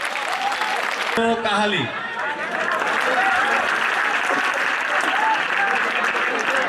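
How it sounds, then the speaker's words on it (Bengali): Audience applause at the 2016 HSBC Prothom Alo language competition: sustained, steady clapping fills the hall while an announcer speaks over it. "জোরে তালি হবে।"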